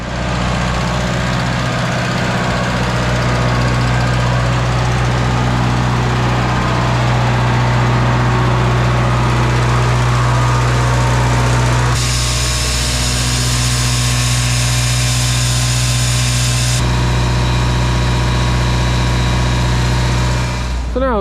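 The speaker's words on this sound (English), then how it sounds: "we'll get in and see this bin being filled" A feed bin is filled with 14 tons of Liffey Mills calf wean-and-rear nuts, under a loud, steady mechanical drone with a humming tone that shifts pitch partway through.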